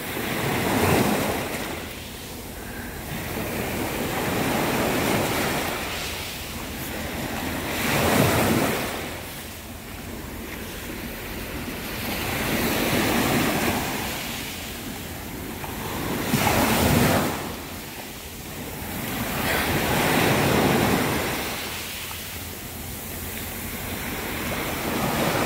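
Ocean waves break on shore in slow recurring surges, each rising to a loud crash and then washing back, with wind buffeting the microphone and no voices.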